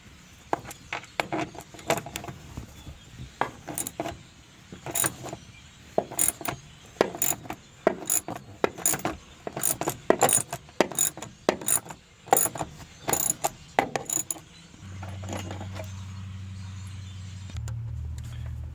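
Ratchet wrench clicking as it backs out 12 mm bolts on the hybrid battery of a 2011-2015 Hyundai Sonata hybrid, with repeated bursts of sharp close pawl clicks, ending in a steady low hum.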